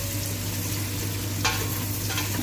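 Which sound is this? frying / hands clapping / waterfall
frying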